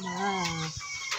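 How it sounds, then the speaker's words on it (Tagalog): A chicken clucks and squawks up close in a short burst while being fed, with a couple of soft knocks and rustles around it. "nagpatuka na ng kanyang mga alagang manok ang aking ama"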